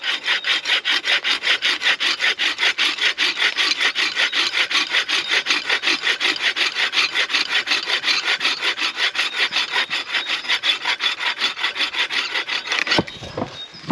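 A survival tube bow saw cuts through partly rotten yet still firm wood, rasping in a steady rapid back-and-forth rhythm for several seconds, loud and close with no talking, then stopping abruptly near the end.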